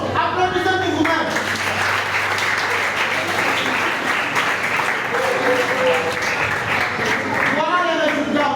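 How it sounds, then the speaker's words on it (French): Crowd of attendees at a reading festival in Kinshasa applauding loudly in a sustained, dense wash of clapping, with voices and calls rising through it near the start and end. "Applaudissez pour vous-même."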